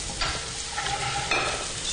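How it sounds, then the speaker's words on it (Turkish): Chopped onions sizzle in melted butter in a pan while being stirred, a continuous close frying hiss broken by a few scraping stir strokes. "Yanmadan koyalım soğanlarımızı."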